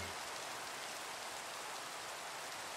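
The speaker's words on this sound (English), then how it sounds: "Rain! Perfect!" Rain falls steadily in the Minecraft ATM7 modpack, a soft, even hiss of patter that stays constant throughout and plays alone at low volume.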